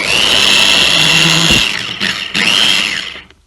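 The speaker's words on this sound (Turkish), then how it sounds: "ben şimdi 15-20 saniye çırpacağım" A blender whirring loudly as it mixes a frozen watermelon soda drink, a high motor whine that drops out briefly, restarts with a pitch swoop, then winds down to silence at the end.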